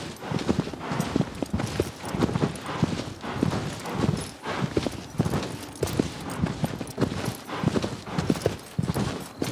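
Horse hooves clip-clopping in the Shadow of the Colossus video game, a steady rhythmic gallop of repeated hoofbeats that runs the whole clip, close and fairly loud, with no talk over it.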